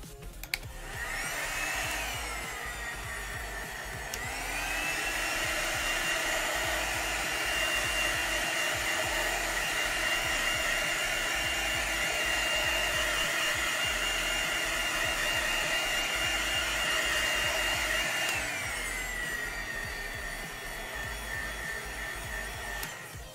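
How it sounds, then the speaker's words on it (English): A hair dryer drying a painted miniature blows steadily at close range, its whine shifting up in pitch partway through and dropping back near the end, with no talking. "Let's hair dry this."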